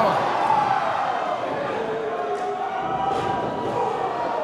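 A wrestling crowd roars steadily through a tag-team match between Los Medicos with FredDIE and The Batiri with Merlok, with dense cheering and a commentator talking loudly over it.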